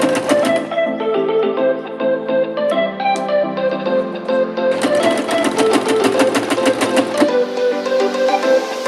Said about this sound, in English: After pinning, go ahead and sew it using only one straight stitch.